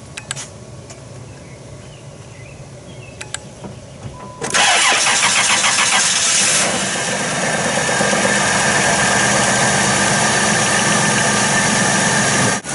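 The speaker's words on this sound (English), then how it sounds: "it starts, it's running, and the alternator's charging the battery" A car engine cranks and catches on a jump starter after a few quiet seconds, then settles into a loud, steady idle that runs close and unbroken to the end.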